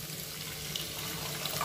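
Water pours steadily into a cooking pot for sago custard, a continuous close splashing rush over the whole stretch, with no voices.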